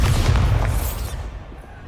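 Bombarda spell explosion in Hogwarts Legacy, a single heavy low boom with a rumbling burst that swells at once and then fades over under two seconds, heard on its own with no voices.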